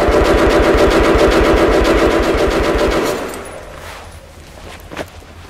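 Sustained automatic-weapon fire in the shooter game Metro: Last Light, a fast loud rapid-fire burst lasting about three seconds before it cuts off, leaving quieter ambience and a faint single crack afterward.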